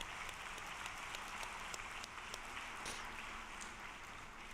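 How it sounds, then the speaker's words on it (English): Audience applause at a Cheonshim Won gathering, a faint, steady, distant patter of many hands clapping that continues evenly throughout with no talk. "Please give them a big round of applause."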